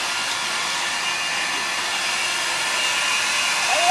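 A hair dryer blows steadily while drying hair, a loud, constant, airy whoosh that stays close and even with no voices over it.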